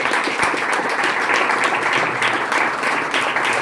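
A crowd at a Peronist party meeting applauds in a steady, dense wash of clapping, fairly loud and sustained throughout with no voices over it.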